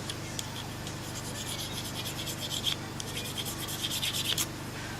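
Anaconda Spinifex firesteel rod being scraped to remove its black coating, a steady close rasping rub in repeated short strokes over a low background hum.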